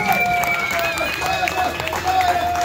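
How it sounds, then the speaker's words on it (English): A crowd at an Onam celebration applauds for Sharath, a dense steady patter of clapping with cheering and background chatter, held loud throughout. "A big, big applause to Sharath for making this happen."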